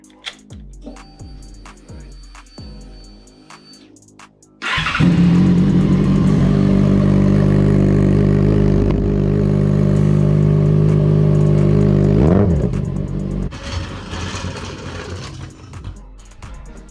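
A Yamaha Blaster 200 two-stroke motorcycle engine with a worked cylinder and opened intake starts up and revs hard close by, a loud buzzing roar that rises and falls in repeated throttle blips.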